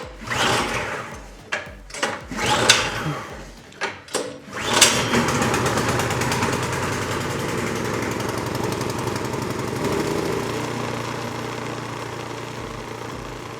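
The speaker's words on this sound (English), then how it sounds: "we're ready to start it for the first time" A Troy Bilt 2410 snow blower engine is pulled several times, giving short sputtering bursts, then catches and settles into a loud, steady small-engine idle that runs to the end.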